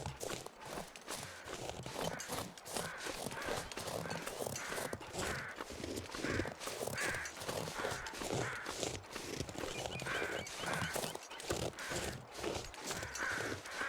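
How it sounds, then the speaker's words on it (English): Carrion crows caw now and then amid a dense wash of outdoor ambience in the video game The Long Dark, with scattered footsteps and rustling mixed in. "Those sound like carrion crows."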